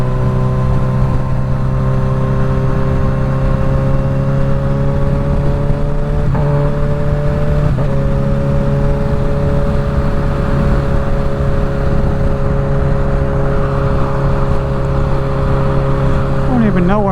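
Suzuki GSX-S1000 motorcycle with a full Dominator exhaust cruising on a Virginia Beach interstate, a loud, steady engine drone with wind rush throughout and brief shifts in pitch around gear changes, no talking.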